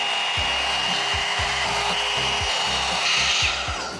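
Dollar Tree hot air brush running on its high setting, a steady loud blowing whir with a faint motor whine, alone and without talk, while the brush rubs and drags against hair in repeated rhythmic strokes.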